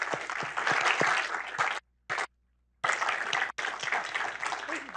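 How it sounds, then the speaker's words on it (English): An audience applauds for Corey DeAngelis at an education freedom event: full, dense clapping that stops twice for brief silences, with a short burst in between, then resumes loudly. "please join me in giving a round of applause to Corey DeAngelis"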